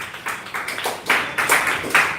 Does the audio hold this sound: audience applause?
yes